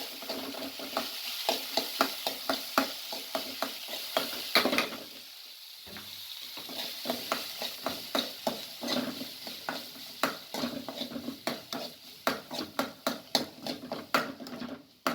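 Daliya pulao ingredients fry in a pan, a continuous sizzle under rapid, rhythmic spatula scrapes and taps that keep going almost without pause, with a brief lull midway; close by, no talking.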